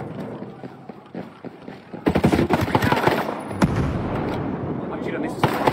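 Rapid bursts of gunfire in a sniper video game, with dense shots starting about two seconds in and continuing loudly to the end, while people talk over the action.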